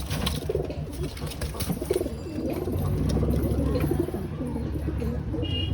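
Flying pigeons in a loft coo steadily, low soft calls layered in a busy, continuous chorus close by, with faint background noise throughout.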